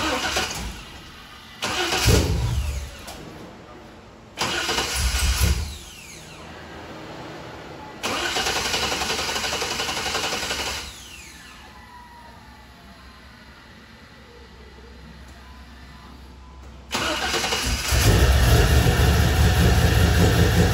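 A Pontiac LS1 Trans Am cranks over on a newly replaced starter in several loud bursts separated by quieter idle-like stretches, ending in a sustained heavy rumble.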